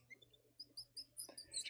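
A mouse squeak slowed down until it resembles a seagull's cry: a series of short, faint high-pitched chirps, quiet and close, ending in a louder squawking burst.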